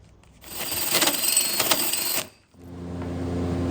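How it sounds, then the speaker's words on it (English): A hole saw cuts into a metal turbo housing, giving a harsh, buzzing grind with rattling bursts that stops abruptly, then a lower motor hum carries on alone. "Let's see if this hole saw is going to work."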